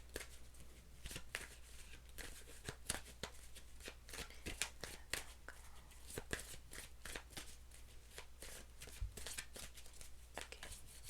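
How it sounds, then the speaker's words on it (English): Repeated crisp riffling of a deck being shuffled, close up and fairly quiet, with steady low background hum. "Three more shuffles."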